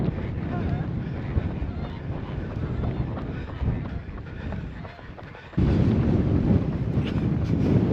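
Strong wind gusts roar across the mic outdoors on an exposed stretch near Aigues-Mortes, a steady low rumble that swells loudly in the last seconds, with voices faintly present underneath.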